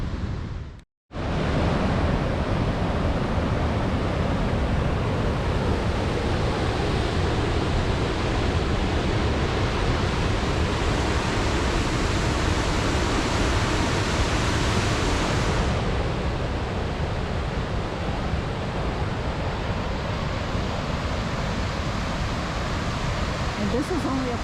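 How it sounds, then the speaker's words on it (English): Upper falls of Cataract Falls on Mill Creek, Indiana, a broad, steady roar of rushing water close by, dense and continuous throughout after a brief cut at the start. "this is only a portion of the upper falls"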